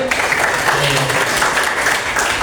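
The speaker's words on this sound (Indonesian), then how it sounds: "Ya, tepuk tangan dulu Adit" A classroom group claps for a student during a Hindu religious education lesson in Indonesia, a brief steady burst of clapping, fairly loud and continuous throughout.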